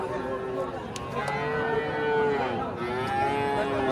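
Foreign-breed calves moo repeatedly at a busy rural cattle market in Bangladesh, loud, drawn-out bellows rising and falling close by over a steady din of crowd chatter and other livestock.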